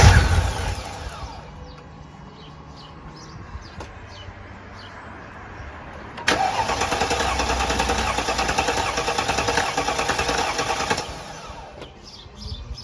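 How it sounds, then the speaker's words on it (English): A Mercedes ML55 AMG engine idles with its fuel pump disconnected, giving a steady mechanical running drone. The level jumps louder midway, holds, then eases back, with faint chirps in the background and no talk. "So now we'll run the car and hopefully it will just eventually die because it will run out of fuel."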